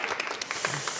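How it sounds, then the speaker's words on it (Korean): An audience at a Korean municipal talk event breaks into brief applause, a dense, even wash of clapping heard close and moderately loud for about a second. "박수 한번 주세요."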